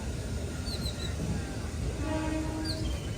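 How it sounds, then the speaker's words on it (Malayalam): A DEMU train pulling out of a railway station produces a continuous low rumble with faint higher squeals and a brief tone near the end. "നമ്മളെ ട്രെയിൻ ഇവിടെ നിന്ന് എടുത്ത്"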